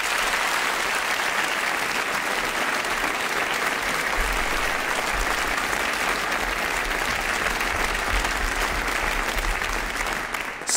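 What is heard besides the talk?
audience applause for the young choristers finalists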